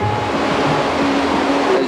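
Himalayan river rushing over rocks, a loud, steady roar of churning water heard up close, with no speech over it.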